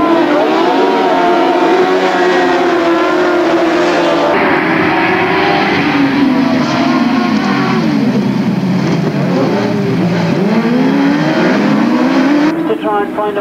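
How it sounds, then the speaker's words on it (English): Grasstrack racing cars at a 1999 bonfire burn-up meeting, engines droning and revving loudly as they pass and corner, with a commentator talking over the continuous engine noise. "Duncan Tolhurst has made a good start and got to the lead as he goes into that first spin"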